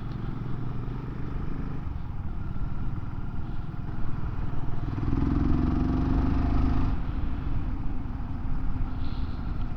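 A BSA 650 Scrambler single-cylinder motorcycle being ridden, a steady thumping engine drone with road and wind rumble that swells louder in the middle.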